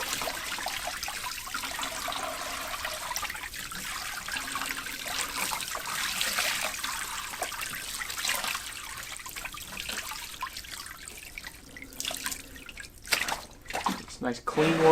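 Water trickles and drips steadily with a soft splashing hiss while a whitetail deer hide is rinsed during tanning, people talking faintly over it, a few louder splashes at the end.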